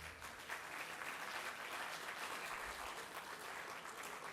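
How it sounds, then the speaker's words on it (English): Steady, dense applause from the audience at the 2024 annual convocation of MP Birla Institute of Management, loud and continuous throughout with no speech over it. "a big round of applause for that."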